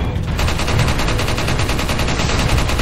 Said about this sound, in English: I'm about to be shot at